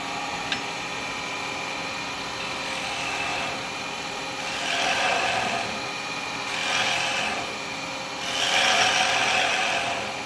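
A wood lathe runs steadily with a spalted beech blank mounted for a lidded box, giving a continuous whirring hum that swells and eases in a few broad waves, with a faint click near the start and no talk.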